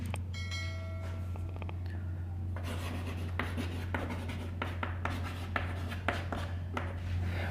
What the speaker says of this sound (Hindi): तो हम यहाँ पे लिखते हैं